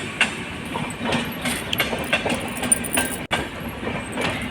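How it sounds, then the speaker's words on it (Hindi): Train moving off along the tracks, heard from a nearby rooftop in India: a steady rumble with rhythmic clicking of wheels over rail joints, moderately loud and continuous, with no voices. "यहाँ पे देखिए ट्रेन ये भी आगे बढ़ चली है अपने सफ़र पे"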